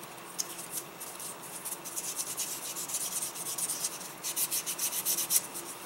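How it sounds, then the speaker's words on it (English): Soft sanding sponge rubbed over a plastic model kit of King Ghidorah, giving a steady, close scratchy rasp in quick back-and-forth strokes that grow more rhythmic toward the end; no talking. "we'll go over all the areas that I've already sanded"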